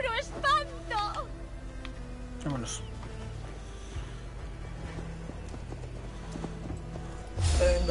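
A horse's hooves clip-clop in a steady walking rhythm in the game Assassin's Creed Valhalla, close and clear beneath a voice talking over them and brief game sound effects.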